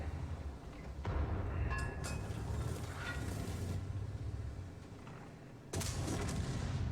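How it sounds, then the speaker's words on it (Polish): A World of Tanks tank cannon fires in a heavy booming blast with a long rumbling tail, followed by a second sharp boom near the end. "I czwarty strzał."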